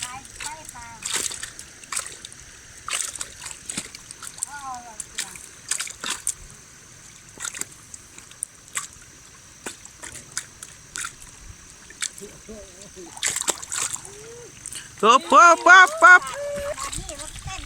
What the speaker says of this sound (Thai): มันมา เป็นคลื่นน้ำครับผม